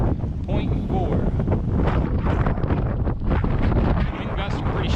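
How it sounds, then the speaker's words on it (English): Strong wind gusts buffet the microphone on Bigelow South Peak along the Appalachian Trail, a loud continuous roaring rumble with no break, no one speaking. "Wind gusts are pretty strong up here."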